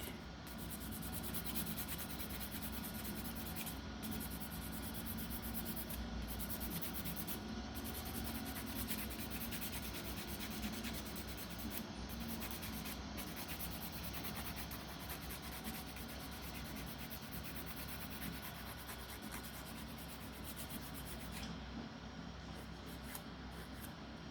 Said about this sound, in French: il est un peu trop gros, donc je vais essayer de le limer